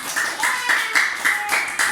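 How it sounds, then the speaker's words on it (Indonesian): Rhythmic clapping in a class lesson, about six evenly spaced claps in a steady beat, close and fairly loud, with a sustained tone running beneath them. "Tepuk tangan buat kita semua"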